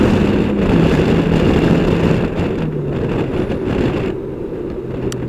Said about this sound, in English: Now I'm manually downshifting here.